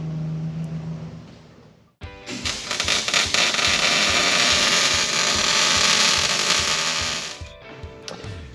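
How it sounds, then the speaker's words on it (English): Crew welding a back frame piece during frame repair on a Jeep TJ: after a quieter opening stretch, a loud, dense crackling buzz starts abruptly and runs steadily for about five seconds before cutting off. "Film a little bit more of the boys welding on that back piece here."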